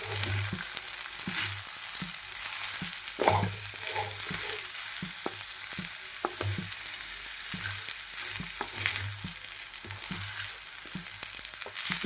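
Soya chunk fried rice frying in a pan with a soft continuous sizzle, while a spatula scrapes and stirs in repeated short bursts close by.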